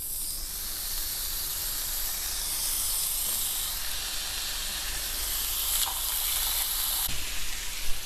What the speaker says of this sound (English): once the oil is heated up, we can add our lamb chops one at a time